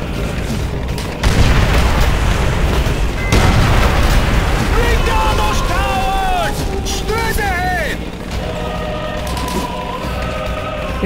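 A tank in Call of Duty: World at War fires heavy booming cannon blasts with rumbling explosions and battle noise, while shouted in-game voices ring out over the combat.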